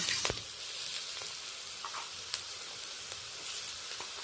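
Potatoes frying in a pan crackle with a steady, soft sizzle while a utensil stirs them gently, giving occasional light scrapes and taps. No one speaks.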